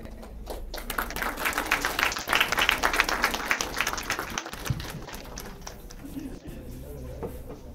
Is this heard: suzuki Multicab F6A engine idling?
no